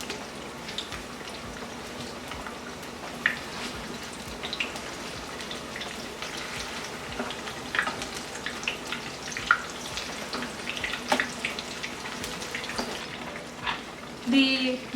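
Brinjal slices frying in a pan, a steady broadband sizzle with scattered crackles and a few louder pops running throughout.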